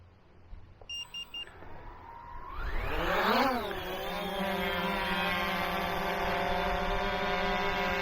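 A Xiaomi Fimi A3 drone auto-takes off after a few short beeps, its motor whine sweeping upward in pitch as the propellers spool up, then settling into a steady, fairly loud hovering drone nearby.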